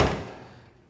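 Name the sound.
car door shutting on 1970 Dodge Challenger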